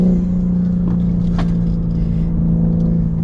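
A 2021 BMW G82 M4 Competition's engine, partly synthesized, accelerates with a loud, steady drone that holds through the whole stretch.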